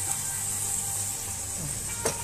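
Onion, carrots and peppers sautéing in a pan, a steady close sizzle of frying vegetables with a brief clatter of stirring near the end.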